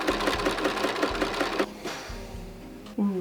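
A sewing machine loaded with a white bobbin and fusible thread runs in a fast, even rhythmic stitching patter for over a second, then stops, leaving quieter handling clicks and a brief final clunk.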